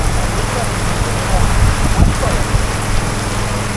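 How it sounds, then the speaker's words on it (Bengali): Heavy rain pours down in a dense, unbroken roar that fills the whole stretch, loud and close with gusty wind mixed in and no voices. "প্রচুর বৃষ্টি, বাইরে আগানোই যাচ্ছে না, পুরো ঝুম"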